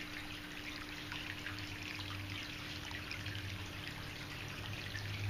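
A Buddha tabletop fountain with a cup waterfall trickles steadily, a soft continuous close splashing of water cascading from cup to cup with no voices.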